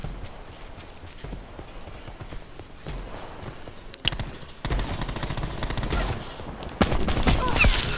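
Gunfire in a video game's gun game mode rattles in dense rapid bursts that grow louder toward the end, with no voices during the shooting.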